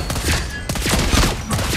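Gunfire in a video game comes as a dense, continuous fusillade of rapid overlapping shots, loud and close, filling the whole short stretch with no talk.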